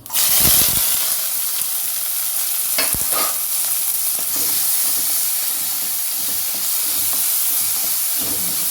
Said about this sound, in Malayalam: ഒരു ടീസ്പൂൺ കടുക് ഇട്ട് കൊടുക്കട്ടോ അപ്പോൾ കടുക് പൊട്ടി